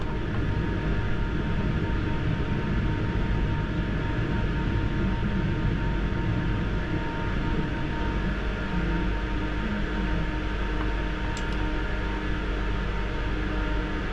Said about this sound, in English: you'll see maybe a Victoria line train passing